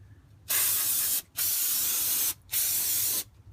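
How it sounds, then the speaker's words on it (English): Brake cleaner sprayed onto the rear brakes of a 2001 Ford F250 Super Duty, three loud steady aerosol hisses close by, each lasting about a second with short pauses between. "So next I'll just spray a little bit of cleaner here."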